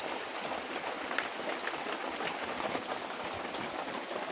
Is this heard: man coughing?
no